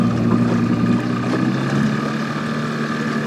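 An outboard boat motor drones steadily at close range near weedy water, a constant low engine hum with tonal harmonics and light wind noise, no speech.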